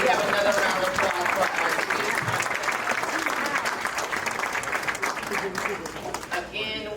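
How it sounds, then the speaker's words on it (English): A crowd at a men's health night event with a panel discussion gives a round of applause, steady loud clapping that gradually thins toward the end, with some voices mixed in. "We have another round of applause"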